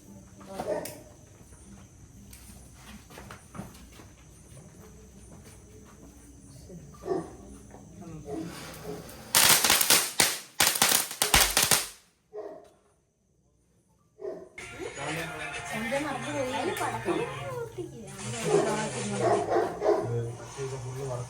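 Firecrackers crackle in a rapid, sharp burst lasting a few seconds, surrounded by people talking and moving about.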